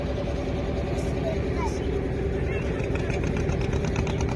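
A boat engine drones steadily and loudly on a river crossing to Mayapur, a continuous low throbbing hum with faint voices mixed in.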